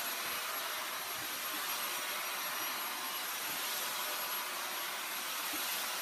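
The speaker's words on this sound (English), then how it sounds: "Because we separate the hair and you dry it." A hair dryer blows on hair as it is separated into sections and dried, a loud, steady, broadband airflow roar that holds unbroken throughout, close by and with no talk over it.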